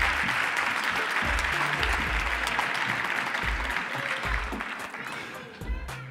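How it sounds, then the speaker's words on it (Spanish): An audience at a Moros y Cristianos festival poster presentation claps in sustained, dense applause that tapers off toward the end, with a voice speaking over it at times. "Venga, un aplauso para ella."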